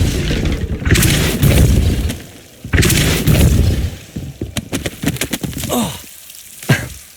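Depulso and Incendio spells cast in Hogwarts Legacy: heavy whooshing blasts and booming bursts come in several loud waves, followed by a quicker run of sharp pops and crackles, with no talk over them.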